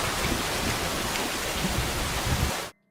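Heavy storm rain pours in a steady, dense roar with low rumbling thunder beneath it, loud and continuous, then cuts off abruptly near the end.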